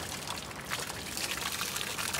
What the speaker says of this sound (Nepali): पानी चिसो पानी नेचुरल पानी है नेचुरल पानी